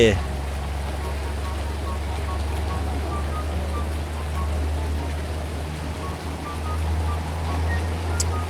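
Steady rain in Farming Simulator 19 hisses evenly over a low, constant drone from a heavy truck's engine on a muddy pond-digging site, while someone talks over it.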